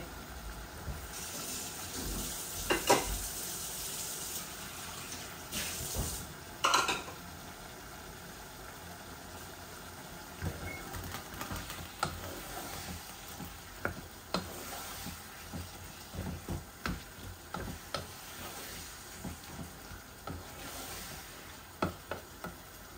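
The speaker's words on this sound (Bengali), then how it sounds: "আর একটু ভুনা হয়ে যাক আলু আর টমেটো" Minced meat frying with potato and tomato in a pan, a soft continuous sizzle with scattered scraping stir strokes and light clicks, close and fairly quiet.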